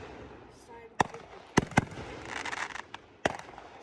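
Fireworks burst in a handful of sharp, loud cracks spaced irregularly, with crackling and crowd murmur between them and people talking nearby.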